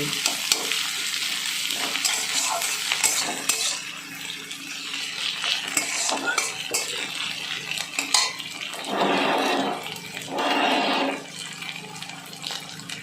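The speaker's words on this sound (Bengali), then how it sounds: "আর হাফ চামচ আদা ফেটে করে রেখেছিলাম সে আদা দিয়ে দিলাম দিয়ে আবার নেড়ে নিচ্ছি" Chhena dish frying in a pan with ginger paste just added, stirred with a utensil that scrapes and clinks against the metal under a steady sizzle, with louder bursts of frying near the end.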